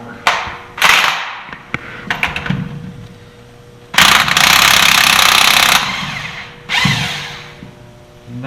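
A cordless power tool loosening the left-hand-threaded sheave on a Yamaha Viking side-by-side. It fires in loud, close bursts of whirring and hammering, with a long sustained run in the middle and quieter clicks and handling noise between bursts.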